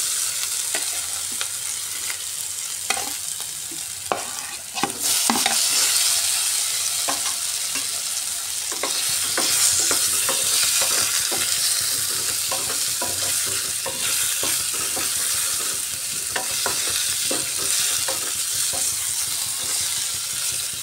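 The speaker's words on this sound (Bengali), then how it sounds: "এবার নুন হলুদ মাখিয়ে রাখা আলুটা ভেজে নিচ্ছি" Potatoes coated in salt and turmeric fry in hot oil over a full gas flame, a loud steady sizzle broken by frequent scraping stirs of the spatula, close up with no talk.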